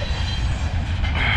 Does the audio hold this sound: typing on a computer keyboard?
no